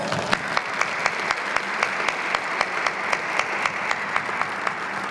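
Sustained round of applause from the audience at Pine Bluff's 175th anniversary gala, a dense steady wash of many hands clapping for about five seconds, with no talk over it.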